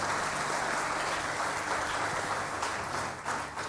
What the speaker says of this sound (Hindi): बहुत सारी तालियां उनके लिए